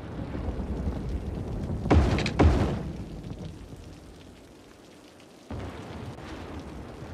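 Thunderstorm in Cities: Skylines with steady rain hiss and two sharp, loud thunder cracks close together, then a quieter lull before the rain swells again.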